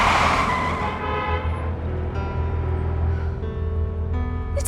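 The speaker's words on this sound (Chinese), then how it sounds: "你踩什么刹车？" A car brakes suddenly, tires skidding against the road under a loud, steady rumble of engine and road noise that fades slightly as the vehicle slows.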